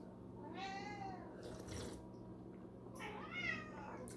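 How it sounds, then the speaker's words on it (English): Cats meow in the background, faint and somewhat distant, with two drawn-out, rising-and-falling calls separated by a short pause and a soft rustle. "Can you hear the cats in the background?"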